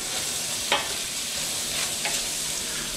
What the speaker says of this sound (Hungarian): elkeverem